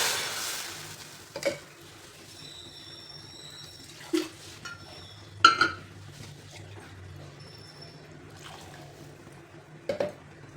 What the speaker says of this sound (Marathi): आपण पालक भाजी बारीक करून घेतलेली घालायची.